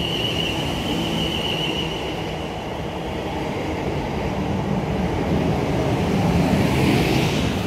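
Class 450 electric unit 450031 pulls into a station leading a commuter train, a steady loud rolling rumble with a thin wheel squeal held above it, growing slightly as it nears; no voices.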